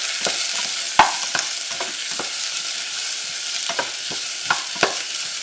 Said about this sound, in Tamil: சேர்த்து இதை நல்லா வதக்கிக்கோங்க.